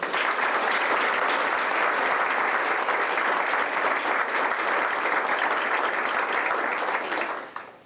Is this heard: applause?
yes